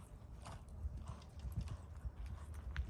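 Hooves clip-clop at a steady walking pace on firm ground, fairly close, with low rumbling movement underneath and no talking.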